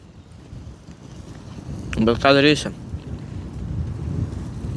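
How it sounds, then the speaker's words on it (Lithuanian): Gusty outdoor wind around a campsite in open countryside on a sunny day, a steady low rumble buffeting the microphone throughout, with a short burst of talk in the middle. "Tik tas vėjas labai nemalonus"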